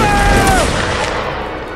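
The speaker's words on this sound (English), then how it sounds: "We are taking a lot of gunfire here." A loud burst of rifle volleys in a Mount and Blade battle, a sharp booming crack up front that decays into a fading rumble with a falling tonal whine.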